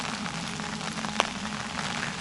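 Steady, dense heavy rain hiss over an abandoned village church across the whole stretch, with a single sharp drip or tap standing out partway through.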